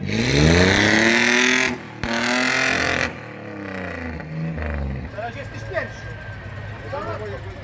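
A Tarpan vehicle's engine roars and revs hard at a loudness test, a loud sustained blare that cuts off and resumes, then drops to lower revving amid crowd chatter and people talking.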